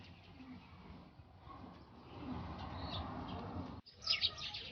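Racing pigeons cooing and chirping in a loft, soft repeated calls under a steady ambient rumble, with a sharper burst of bird calls near the end.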